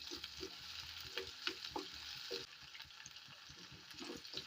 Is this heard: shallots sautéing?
yes